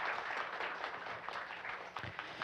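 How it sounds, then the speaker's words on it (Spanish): Audience applause at a Peruvian judicial academic event, welcoming the president of a Superior Court of Justice; steady, fairly soft clapping from a crowd, continuous across the clip with no voices. "Recibamos con fuertes palmas"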